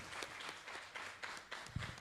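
Audience applause at a keynote speech, heard as a steady wash of clapping from a seated crowd over about two seconds, with a few sharper individual claps near the end.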